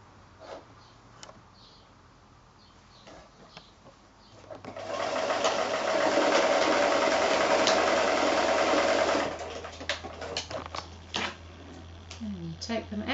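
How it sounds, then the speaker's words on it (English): Sewing machine stitching quilt squares to a narrow strip, a steady whirring run of several seconds at close range, with light handling noises and some speech before and after. "then I'm going to sew the other square to that strip"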